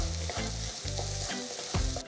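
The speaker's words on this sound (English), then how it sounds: "Saute for about 2 minutes for the raw smell to go." Freshly pounded ginger and garlic sauté in a hot pan with a constant close sizzle, while a spoon scrapes the pan in steady strokes about every half second.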